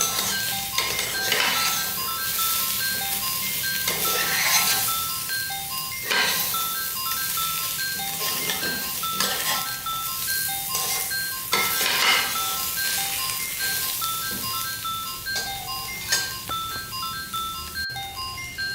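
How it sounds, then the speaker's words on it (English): Mutton pieces stirred and fried in a pot for biryani, a continuous loud sizzle with repeated scrapes and clinks of a spoon against the metal pot and faint music-like tones behind; no voices. "The mutton pieces, as I can see, they are fried now"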